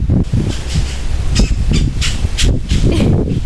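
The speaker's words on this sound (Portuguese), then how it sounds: "Olha o passarinho." A bird calls outdoors with repeated harsh, crow-like caws in a loose rhythm, fairly loud over a steady wash of open-air background noise, with no talk.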